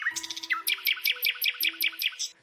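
Morning birds chirp in a quick repeating series of bright, high tweets, steady and fairly close, with no voices.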